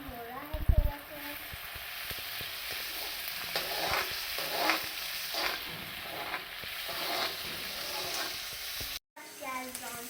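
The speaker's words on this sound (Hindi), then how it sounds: "प्याज ब्राउन होने तक हम इसे पकाएंगे।" Onions frying in a pan until brown for pota kaleji, giving a steady close sizzle with repeated stirring scrapes, while a voice talks quietly in the background and the sound briefly cuts out near the end.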